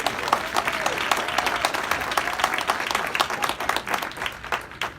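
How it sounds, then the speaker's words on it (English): An audience at a celebration honoring a class of 30 and under claps in sustained, fairly close applause, individual hand claps distinct within the crowd, with a voice briefly audible early on. "Please, a big round of applause for Jacob."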